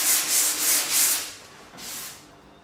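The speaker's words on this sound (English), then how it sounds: "So I sanded the primer off down to filler." Primer being sanded off a car body panel down to filler, a close, hissing rasp in four rhythmic back-and-forth strokes, then a pause and one more stroke, with no talking.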